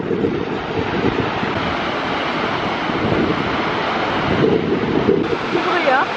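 Montmorency Falls roars as a steady, loud broadband rush, with gusts of wind buffeting the microphone throughout.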